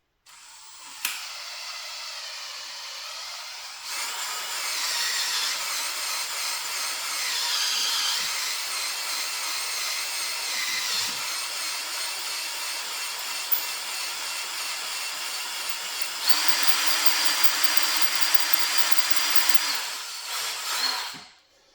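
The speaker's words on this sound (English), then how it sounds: "So first, we'll just get the hole drilled. We'll go as straight and as slow as we can here." Steady power drill boring slowly and straight into solid material, a continuous loud whine running nearly twenty seconds with a brief pause early and a rising pitch change near the end.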